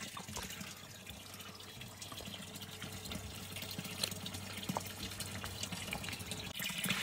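Gravity-fed mountain spring water runs steadily at an off-grid homestead, a soft continuous trickle and splash with faint drips, fairly quiet and unbroken throughout.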